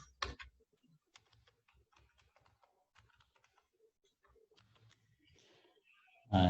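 Username and password are typed on a computer keyboard as quiet, irregular key taps, with a sharper click at the start and a louder click at the very end.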